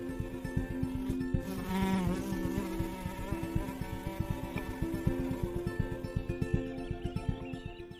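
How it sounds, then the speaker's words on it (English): Flies buzzing around a kestrel nest in cold weather, a continuous rapid droning buzz, faint but steady, under a faint tonal background. "She's on edge, even irritated by flies buzzing around the nest."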